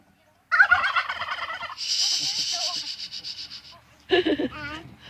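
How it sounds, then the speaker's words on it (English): Loud, close turkey gobbles come in quick rattling bursts, a warbling call followed by another gobble after a short pause. "That's what the turkeys say."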